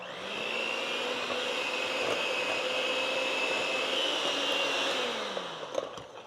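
Electric mixer beating orange cake batter of sugar, eggs and salt until light and foamy, a steady whirring drone running evenly for about five seconds before winding down.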